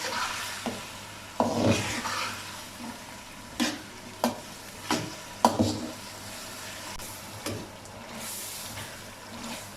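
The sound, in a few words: potatoes and peas being stir-fried with spices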